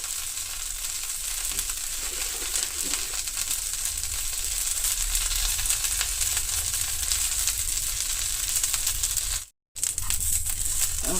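Mint, curry leaves and tamarind frying in a pan for chutney, giving a steady, continuous sizzle at close range that stays even throughout, with a brief break near the end.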